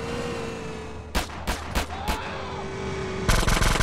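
Gunfire in GTA San Andreas: four sharp separate shots, then a rapid burst near the end, loud and close over a steady engine-like hum with no talking.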